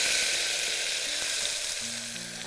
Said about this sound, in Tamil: இப்போ இதில் தக்காளி ஆட் பண்ணுறேன்